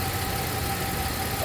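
A Dodge Ram with an overhead valve cast iron engine idles steadily with a faint lifter tick, a continuous mid-pitched hum held at even level for the whole stretch.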